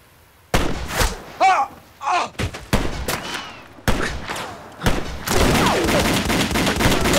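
Gun thugs fire on a cabin in a dramatic shootout: sudden loud gunshots and rapid bursts echo in quick succession, building into a dense, sustained volley of fire near the end.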